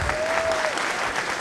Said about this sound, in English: Can I get another round of applause for Next Day Video?